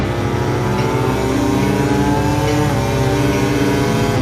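A MotoGP Ducati motorcycle at the Catalunya circuit accelerates hard out of the final corner, its engine a loud, steady, high-revving drone that holds for several seconds.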